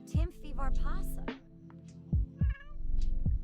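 A cat in The Sims video game meows several times in short, bright cries, separated by gaps, with a low hum running underneath.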